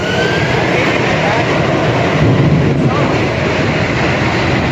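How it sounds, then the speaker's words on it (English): A plane passes overhead during a street encounter with a police officer, making a loud, continuous broad roar that fills the whole clip and drowns out the surroundings. "I can't hear you because of plane."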